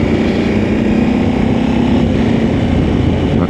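A KTM motorcycle being ridden: a loud, steady engine drone with a constant pitch and wind rush, close to the listener, with no talking.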